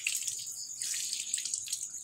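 Water running out of the purge unit of an Epson L3210 inkjet printer, a steady thin trickle with a hissy, splashy texture, fairly close and quiet, heard on its own without talk.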